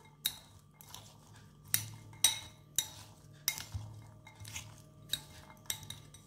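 Salad with pre-shelled pomegranate seeds being mixed in a bowl, giving a series of light clinks and scrapes of utensils against the dish at an irregular, fairly steady pace, close and quiet with no talking.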